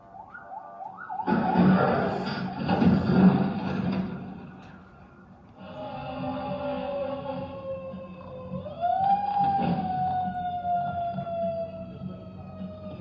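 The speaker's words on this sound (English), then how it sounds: "Fire truck." A fire truck siren wails, rising and falling under rumbling traffic noise, shifting into a long sweeping tone as the vehicle passes nearby, picked up through car window vibration.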